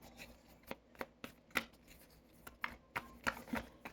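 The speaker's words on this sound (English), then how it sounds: "Shuffle for Gemini." Tarot cards being shuffled by hand, a quiet run of irregular soft riffles and taps, some sharper flicks standing out, close and alone without talk.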